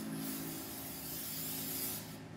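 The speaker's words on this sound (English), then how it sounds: "Get some good brake cleaner in here." Brake cleaner hisses in a steady, continuous spray onto a Fly Scout, close and fairly loud, with a faint rubbing texture underneath, cutting off near the end.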